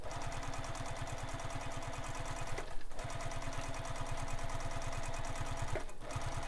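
A sewing machine runs steadily, stitching a handbag seam a short distance from an earlier row, its needle pulsing in a fast, even rhythm with two brief pauses, close and alone without talk.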